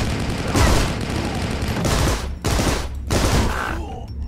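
Rapid automatic gunfire from a weapon in the video game Rocketbirds: Hardboiled Chicken rattles loudly in long, dense bursts separated by short gaps.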